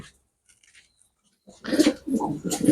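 A Teddy master pair pigeon coos at a home loft, a few soft rounded calls close by that follow a short quiet pause.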